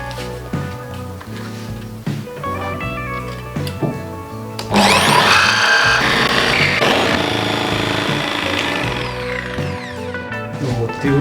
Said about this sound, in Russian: Берем лобзик и пилу для фигурного реза.